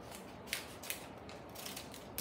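Scissors snip open a powder packet from a boxed macaroni kit, a few sharp close cuts spaced irregularly over quiet room tone.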